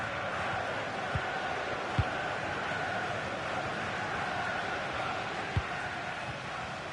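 Stadium crowd noise from the FIFA 23 football video game in a PSG match, a steady distant roar of fans with a few faint thumps, no clear talk over it.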